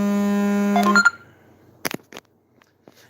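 A phone rings during a live stream, giving one steady, buzzy electronic tone for about a second before it cuts off, followed by a few faint clicks and rustles.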